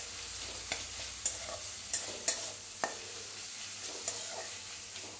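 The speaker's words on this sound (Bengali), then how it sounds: "সমস্ত কিছু খুব ভালো করে আরও একবার ভেজে নিতে হবে" Onion and green chillies frying in a pan for chicken pasta, a steady close sizzle with a few sharp clacks of a spatula stirring, no voices.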